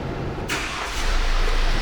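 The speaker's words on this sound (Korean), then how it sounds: "시동 소리 좋은데요?" A used Kia Bongo 3 truck engine cranks with a short burst at the start, then catches and settles into a steady, low idle rumble that grows slightly louder toward the end.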